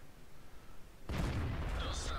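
Cannon of a Škoda T 40 tank in a tank video game fires once partway through, a sudden loud boom with a rumbling tail, after a quieter engine-like hum.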